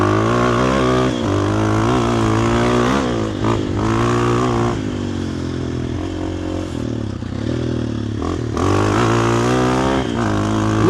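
Motorcycle engine revving hard and close, its loud throbbing tone rising and falling through repeated throttle blips and gear changes.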